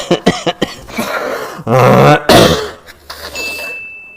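Someone with a cold coughs and clears their throat in several loud, close, ragged bursts separated by short pauses.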